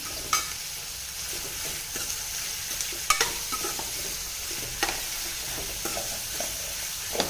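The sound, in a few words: onions frying in a pan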